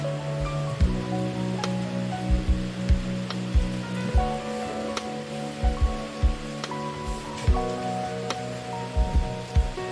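Chicken pakora deep-frying in oil over a high gas flame, a steady close crackling sizzle with scattered pops and occasional clinks, no talking heard.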